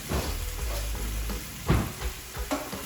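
Beans seasoned with garlic powder, onion powder and cumin fry in a pan with a close, crackling sizzle. Several louder scraping stirs of a spatula break through near the middle and end.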